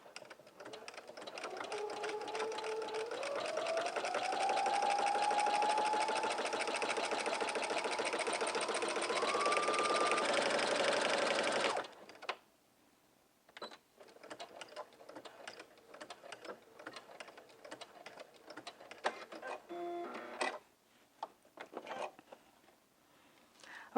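Sewing machine stitching a jumpsuit seam, running steadily for about twelve seconds with a rising-and-falling motor whine, then stopping and giving way to quieter scattered handling noises.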